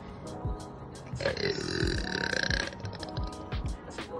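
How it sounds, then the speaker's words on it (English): A loud, drawn-out burp rumbles for over a second, close and resonant, amid background chatter and bustle on a film set. "Imagine being able to burp this long."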